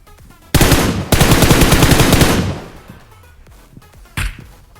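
Bursts of automatic gunfire in PUBG Mobile, loud and close, coming from behind the player: a dense rapid volley, a brief break, then a longer sustained burst that fades, followed by one short late burst.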